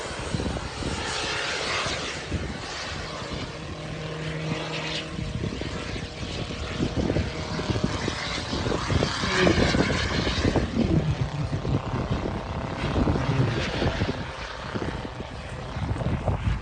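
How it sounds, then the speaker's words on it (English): Aerobatic propeller airplanes fly overhead at an air show, a loud continuous engine and propeller drone that swells and shifts in pitch as the aircraft pass in formation, with brief voices and crowd noise underneath. "Aerobatic airplanes, everything in between."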